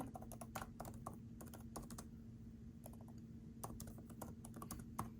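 Fingers tap out a search on an iPad's on-screen keyboard in quick bursts of light clicks, close and quiet, with a faint steady hum underneath and no voices.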